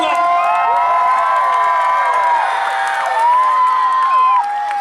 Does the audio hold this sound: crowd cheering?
yes